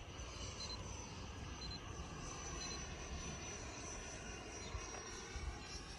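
An FMS 80mm F-16 RC model jet flies overhead, a steady, fairly faint whooshing roar of its ducted fan that holds constant throughout.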